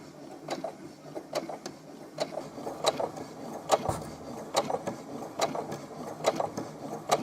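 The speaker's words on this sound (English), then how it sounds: "the sewing machine will pretty much do what it needs to do on its own" A Brother INNOV-is 20 sewing machine stitches fabric in short, quiet bursts of rapid stitching, stopping and starting repeatedly against a faint background hum.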